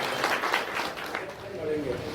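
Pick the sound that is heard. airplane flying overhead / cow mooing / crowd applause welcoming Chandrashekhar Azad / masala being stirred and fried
crowd applause welcoming Chandrashekhar Azad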